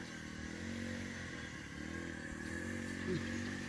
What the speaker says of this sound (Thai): กระดาก็ตัดหญ้าอยู่ ไปใกล้บ่ได้เสียงมันดังค่ะ